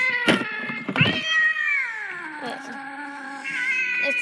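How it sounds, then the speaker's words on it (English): A toy Halloween cat decoration lets out a long, drawn-out electronic meow that slides downward in pitch, preceded by a couple of short clicks or knocks, loud and close. "it turns its head and meows."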